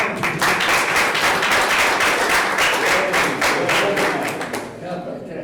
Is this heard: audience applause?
yes